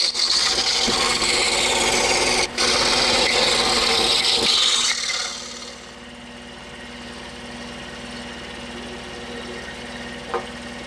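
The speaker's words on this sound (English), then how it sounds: "I'm just installing a number 7 reverse tooth blade in our saw, and that should very easily handle this 3/4 maple." A saw fitted with a number 7 reverse tooth blade cuts through 3/4-inch maple, giving a loud, steady buzzing rasp for about five seconds before the cutting stops and the motor winds down to a faint hum.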